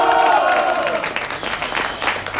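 Clapping from a studio crowd during a Miss Café Sin Censura pageant vote, opening with shouts and cheers that give way to a brisk, slightly uneven burst of applause.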